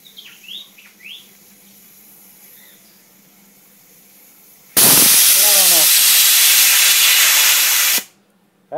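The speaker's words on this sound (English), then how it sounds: "That dumps some steam." A homemade steam rocket stove boiler blows off steam in a sudden loud, steady hiss lasting about three seconds and then cutting off abruptly, after quieter background chirps and a low hum.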